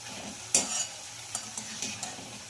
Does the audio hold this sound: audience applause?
no